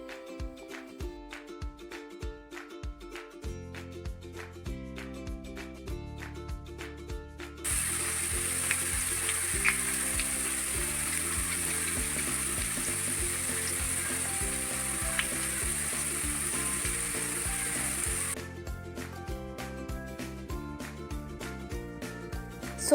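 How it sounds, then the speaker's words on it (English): Boondi, small drops of gram flour batter for laddu, frying in hot oil with a loud steady sizzle that holds for about ten seconds over quiet background music. "So we are able to hear the sound of bundi, right? Bundi get frying."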